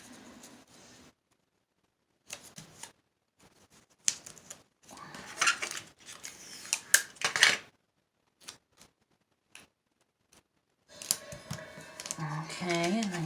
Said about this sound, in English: we're just going to snip it